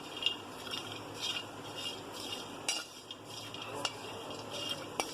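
Chopped dried coconut (copra) roasting in a pan, with a spatula scraping and clinking now and then over a soft, faint sizzle and a light background hiss.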